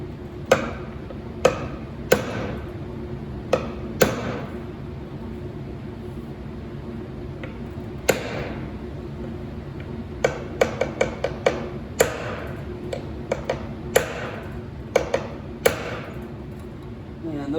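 A hammer strikes a nail set to sink trim nails on a wooden mirror shelf, producing sharp isolated taps and short rapid clusters of hits over a low background hum.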